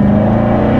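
A Z51 Corvette Stingray V8 accelerating hard, a loud, steady low engine drone with strong harmonic tones heard from inside the car, brief and without talk.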